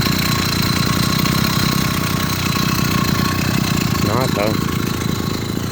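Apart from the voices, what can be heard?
80cc motorized bicycle engine idling roughly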